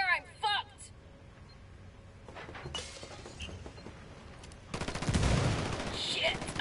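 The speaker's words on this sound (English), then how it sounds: "Taking fire!" Gunfire in the open-world shooter Ghost Recon Wildlands: sporadic shots early, then a dense, loud burst of rapid fire near the end, with shouting voices heard in between.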